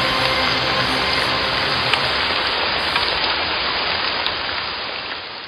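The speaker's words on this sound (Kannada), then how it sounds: "ಮಳೆ ಬರ್ತಾ ಇದೆ ಮಳೆ ಬಂದೇ ಬಿಡ್ತು ಮಳೆ ಬರ್ತಾ ಇದೆ" Rain falls heavily and steadily in a dense, even hiss that stays loud from start to finish, alone with no voices over it.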